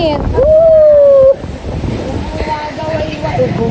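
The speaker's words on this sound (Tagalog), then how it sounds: "ang lakas ng hangin" Strong outdoor wind buffets the microphone in a heavy, continuous roar, with a voice briefly crying out over it at the start and the gusts continuing afterward.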